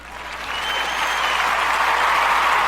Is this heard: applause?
yes